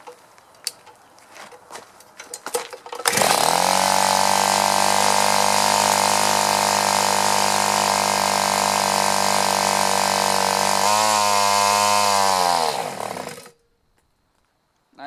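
Small Tecumseh TC300 two-stroke engine on a Victa lawn trimmer runs loud and steady for about ten seconds, then stumbles and dies as the fuel runs out, leaving silence.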